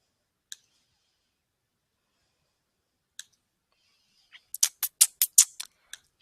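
Mouse clicks on a computer while picking a fill color in a drawing program: two isolated clicks, then a quick cluster of rapid clicks near the end, crisp and close in an otherwise silent room.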